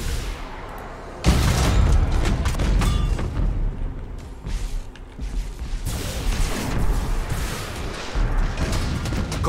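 Bombers launching and attacking in the space strategy game Battlefleet Gothic Armada 2, heavy booms and rumbling barrages with mechanical clanks rolling on continuously, loud and dense.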